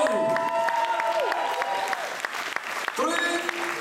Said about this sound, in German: Applaus für Donny!